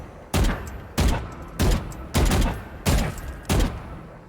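Six sharp gunshots ring out in the video game Valorant, evenly spaced about half a second apart, each a loud, close crack with a short decaying tail and no talking.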